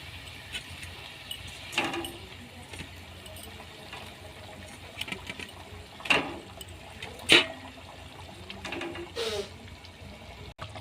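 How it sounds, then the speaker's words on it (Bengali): Rui fish curry, made in a wedding-feast style, bubbling in a pot: soft liquid churning with occasional louder gurgling bursts, and some nearby talk. "এই যে মাছের ঝোলটা ফুটে গেছে এবার মাছগুলো সব দিয়ে দিই"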